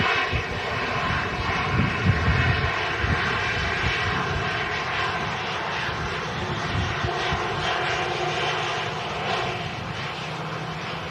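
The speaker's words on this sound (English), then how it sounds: "The Emirates A380 is given clearance to line up and wait." An Emirates Airbus A380 airliner's engines rumble steadily as it lines up on the runway, a broad continuous roar heard from a distance with no talk.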